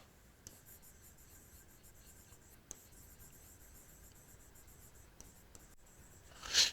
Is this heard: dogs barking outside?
no